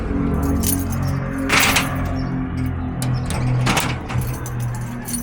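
A bunch of house keys jangles close by in a couple of bright metallic flurries over a steady background of outdoor noise, with no one talking.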